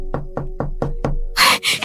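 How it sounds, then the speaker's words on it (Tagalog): Five evenly spaced knocks on a door, close and fairly loud, followed by a brief burst of brighter noise. "Sana si Arvin na yung kumakatok."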